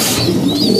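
Pigeons kept in pairs in a loft give a short, close coo, a brief murmuring call with no talking over it.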